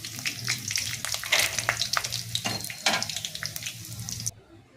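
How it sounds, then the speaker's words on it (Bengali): Corn kernels fry in hot oil in a wok, giving a dense crackling sizzle with sharp pops and faint stirring; the frying cuts off abruptly near the end, leaving quiet. "কর্নগুলো আমার ভাজা হয়ে গেছে"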